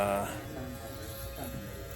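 Style Craft box shaver taking off leftover stubble after a trimmer takedown in a barbershop-style cut, a steady close electric buzz that holds throughout with a stronger burst at the start.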